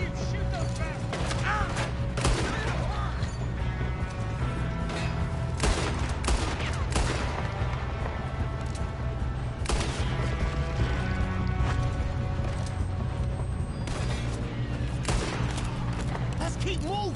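Gunfire exchange in the Red Dead Redemption 2 video game: sustained, loud volleys of shots with sharp bursts throughout, over a steady low rumble of music and game sound, with voices in the mix.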